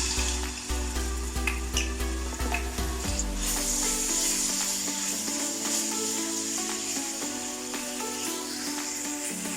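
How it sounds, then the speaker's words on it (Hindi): Finely chopped garlic frying in hot oil for chicken jalfrezi, a steady close sizzle with crackling that starts loud and holds for several seconds without talk. "ऑयल गर्म हो गया तो जो हमने लहसुन ब्रिक चॉप करके रखा था वो डाल देते हैं।"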